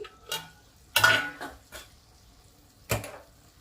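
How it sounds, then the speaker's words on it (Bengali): A lid lifted off a cooking pot of Bengali rohu fish egg curry, a sharp metallic clink followed by a few lighter taps and scrapes, close and fairly quiet, with a final clank near the end. "2 মিনিট ঢেকে রান্না করে নেবার পর আমি ঢাকনাটা খুলে দিচ্ছি"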